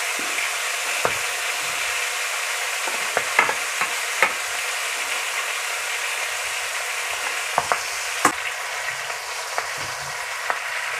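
Marinated milkfish steak fries in a pan with a constant loud sizzle and spitting oil, with a few sharp pops and spatula taps scattered over it.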